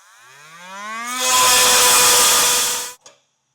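An oscillating multi-tool spins up with a rising whine, then cuts into the steel bumper beam of a 2016 Jeep during a Blue Ox base plate install. The loud, harsh buzzing lasts about two seconds before stopping abruptly, followed by a brief clatter.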